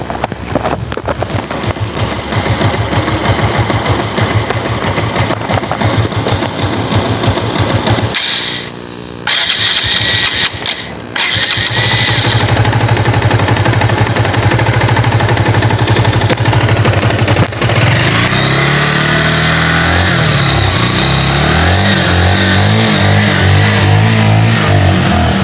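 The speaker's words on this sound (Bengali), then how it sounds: "গাড়ির সাউন্ডটা আমি আপনাদেরকে শুনিয়ে দিচ্ছি" A used second-hand motorcycle engine runs smoothly, idling loud and close, then revs up in bursts with a brief drop partway through before settling back into a steady, throaty run.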